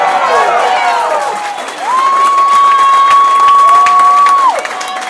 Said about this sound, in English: you guys cheer me